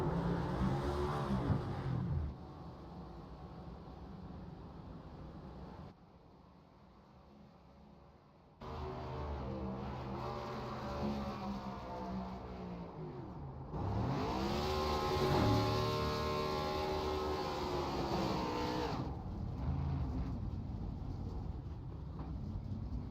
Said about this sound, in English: So he's going to do those victory burnouts.